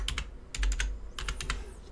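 Computer keyboard keys clatter in a quick, close run of light clicks with short gaps, no voices heard.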